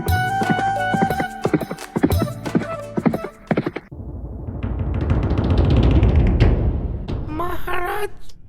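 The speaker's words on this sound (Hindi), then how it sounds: "ठीक है, मेरा घोड़ा लेके जाओ।" Cartoon horse hooves clip-clop in quick, loud rhythmic bursts, then a long galloping rumble swells and ends in a sharp whinny, with no talk over it.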